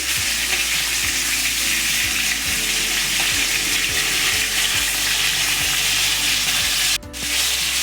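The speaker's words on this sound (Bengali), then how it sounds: "মাছ ভাজা হয়ে গেছে তুলে নিচ্ছি এই মাছ আমি একটু হালকা ভাজবো" Silver carp pieces frying in hot oil give a steady, close sizzle and crackle throughout, with a brief dip in the noise near the end.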